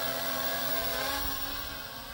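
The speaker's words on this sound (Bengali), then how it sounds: "আমরা ড্রোনটা আস্তে আস্তে কাছে নিয়ে আসতেছি" An LF632 GPS quadcopter drone hovers nearby with a steady, whining multi-rotor hum of layered tones, continuous and fairly loud, with no talking.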